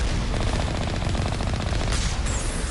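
Alliance turrets in Mass Effect fire a loud, continuous burst of rapid automatic gunfire at close range, with the shots running together into a dense rattle.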